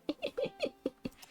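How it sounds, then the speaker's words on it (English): Cat sounds in the video game VA-11 Hall-A: a quick run of about six short, soft squeaky chirps in a rapid, even rhythm, faint and alone. "My cat. Cat."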